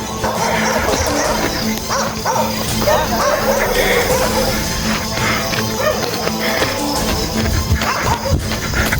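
Dogs bark, yip and whimper repeatedly inside a video game, dense and loud over a constant game soundtrack and background noise.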